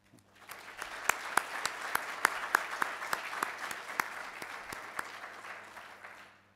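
An audience at a science and technology event applauds participants: a moderate, somewhat distant round of clapping with a few distinct sharp claps standing out, swelling up and then fading away over several seconds.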